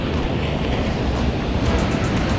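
Ocean waves break continuously beside a breakwater at a surf point at Hitachi, Ibaraki, a steady, loud wash of surf with wind rumble filling the whole stretch, no voices.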